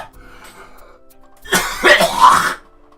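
A man with a chesty cough clears his throat harshly and coughs once, a loud, close burst after a quiet moment.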